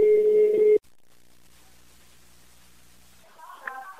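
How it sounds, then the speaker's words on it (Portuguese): An outgoing phone call gives a short, steady tone that cuts off abruptly. A low, quiet line hum follows, then faint voices come in near the end. "Ó, tá chamando."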